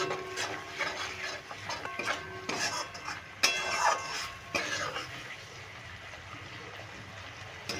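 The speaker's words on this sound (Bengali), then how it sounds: "এইভাবে মশলাটার সঙ্গে আমি খুব ভালো করে মিশিয়ে নিচ্ছি" A spoon scrapes and clinks against a pan while yogurt is stirred into a spice mixture for a fish roe curry, with irregular metallic knocks and a cough, then quieter stirring.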